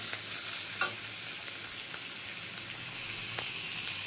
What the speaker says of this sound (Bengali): এটা কিন্তু 5 থেকে 10 সেকেন্ড আমি একটু ভালো করে ভেজে নেব যাতে কাঁচা গন্ধটা বেরিয়ে যায়